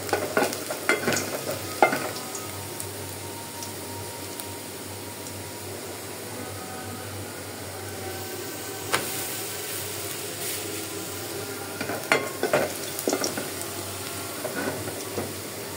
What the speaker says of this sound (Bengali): আমি এখানে ডাল তেলে দেওয়ার জন্য পেঁয়াজ রসুন দিয়ে দিলাম